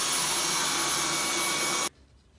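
A Dyson V10 Total Clean cordless stick vacuum runs on carpet with a loud, steady high-pitched whine and airflow roar, then cuts off abruptly, leaving near silence.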